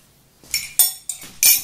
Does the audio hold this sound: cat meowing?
no